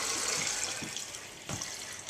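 Pond water poured from a bucket into a Berkey water filter, a steady nearby splashing stream running continuously with a couple of heavier gushes partway through.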